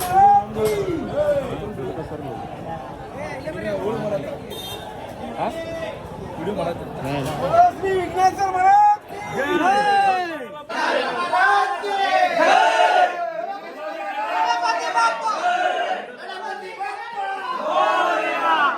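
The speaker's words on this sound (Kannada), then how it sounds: "ನೋಡಿದ್ರಲ್ಲ ಫುಲ್ ಕ್ರೌಡ್ ಐತಿ." Dense crowd noise at a Ganesh Chaturthi pandal in Hubli, with many overlapping voices, chatter and shouts forming a loud, continuous babble that swells and thickens in the second half.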